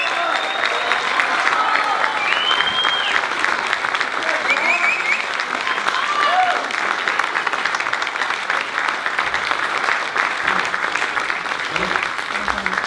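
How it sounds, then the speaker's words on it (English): Continuous, thick crowd applause fills a high school sports awards ceremony, steady and loud for the whole stretch, with scattered whoops and voices mixed into the clapping. "Big round of applause. Big round of applause."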